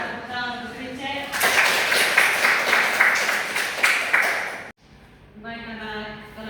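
Applause from a secondary-school classroom during a maths lesson bursts in after a teacher's speech, a dense burst of clapping lasting about three seconds, stopping abruptly before the teacher's voice resumes.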